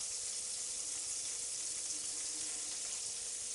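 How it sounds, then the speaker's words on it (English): Pork medallions about half an inch thick fry in oil and butter in a pan, giving a steady, even sizzle that holds without a break throughout, fairly quiet and with no voices. "Now I'm going to fry these for about 5 minutes on each side"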